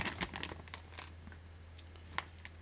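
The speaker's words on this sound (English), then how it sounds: "You end up spending a lot of time taking things out of plastic bags" Plastic bags crinkle and rustle in short bursts as chainsaw brake parts are unpacked, fairly quiet and close, with a steady low hum underneath.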